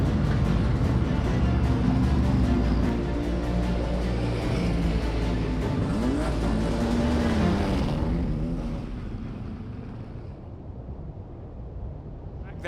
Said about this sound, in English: There are the cars coming out of the pit exit.